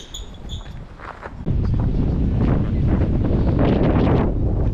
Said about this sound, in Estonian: siin on praegu nii suur tuul